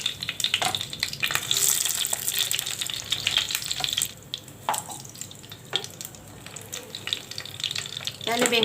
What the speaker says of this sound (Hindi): सबसे पहले मुझे बैंगन को फ्राई करना होगा।